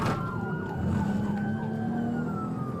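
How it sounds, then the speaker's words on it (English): A police siren wails loudly and continuously during a chase of a wrong-way drunk driver, its pitch sweeping and slowly falling over a steady rumble of road and engine noise, with no talking. "You hear the sirens."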